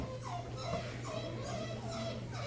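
A dog gives faint, high whimpering whines in short rises over a steady low hum, with a soft yip in a busy indoor morning-play setting.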